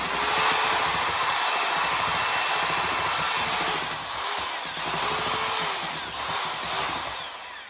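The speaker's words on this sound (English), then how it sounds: "we cannot find the hand mixer, so we're going to use a drill" A power drill fitted as a mixer churns stiff pierogi dough with a loud, close whine. Its pitch dips and rises several times as it slows and speeds up.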